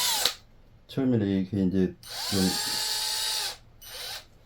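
A power drill bores a grafting hole into a Japanese elm (Ulmus davidiana var. japonica) bonsai, its high whine coming in close bursts of varying length, with someone talking between and over the drilling.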